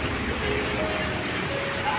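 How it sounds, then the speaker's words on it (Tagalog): Heavy rain falls over flooded streets in Dubai, a steady close hiss of drops on water and surfaces, with a faint voice in the background. "Tapos may ulan pa."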